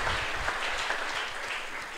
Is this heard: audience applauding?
yes